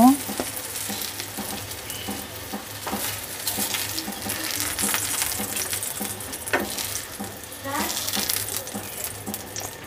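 Eggplant slices frying in a small amount of oil in a pan, with a bright, crackling sizzle up close and scattered clinks and scrapes from turning the pieces throughout.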